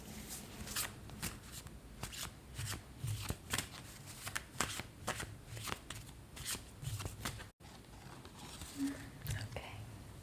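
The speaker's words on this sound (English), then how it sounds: "I'm just going to shuffle one more deck" A deck of tarot cards is shuffled close up in soft, repeated riffling bursts with short pauses between them, quiet and intimate, with faint whispering underneath.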